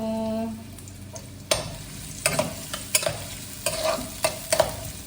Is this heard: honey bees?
no